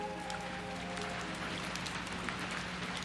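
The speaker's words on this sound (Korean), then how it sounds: "빗방울이 함석 지붕을 두드리는 소리가 들렸다." Rain patters steadily and evenly on a tin roof, a continuous soft drumming with a faint low hum underneath.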